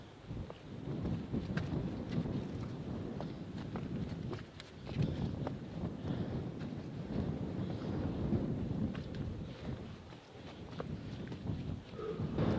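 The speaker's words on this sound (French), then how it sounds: "Il y a un peu de vent." Steady wind buffeting a microphone outdoors on a small coastal point, a continuous low rumble with gusts swelling and easing throughout, fairly loud and unbroken.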